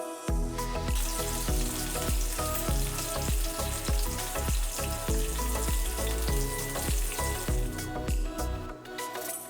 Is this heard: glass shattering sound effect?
no